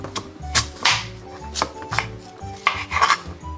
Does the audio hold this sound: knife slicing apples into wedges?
yes